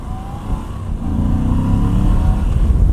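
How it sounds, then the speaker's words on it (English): A 2020 Moto Guzzi V85 TT adventure motorcycle with a transverse V-twin engine is revved from idle, a deep bassy note that swells after the first second and holds steady and loud, close by. "when you rev it on idle, this bike shifts sideways."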